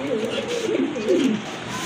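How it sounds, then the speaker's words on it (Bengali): A pair of large Lahori pigeons coos in soft, low, wavering phrases, two rounded calls close by with faint background noise. "মাশাল্লাহ বিগ সাইজের এক জোড়া লাহোরি কবুতর দেখতে পাচ্ছেন"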